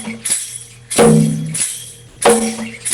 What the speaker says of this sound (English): So, here's the low drum.